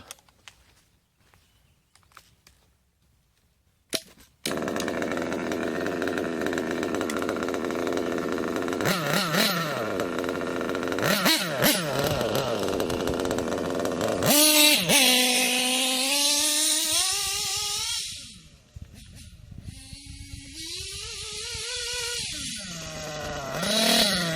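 Small nitro-fuel RC engine pulled into life after an idle-screw lean adjustment, a high buzzing whine with rising and falling revs, cutting back near the end, close and fairly loud.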